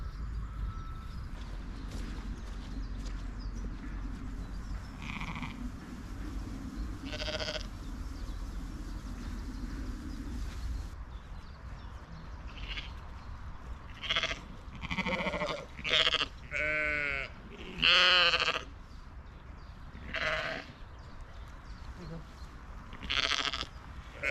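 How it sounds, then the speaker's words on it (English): Sheep bleating in a farm setting, several loud, wavering calls clustered in the second half, with voices and background noise earlier on. "She's a nice sheep as well."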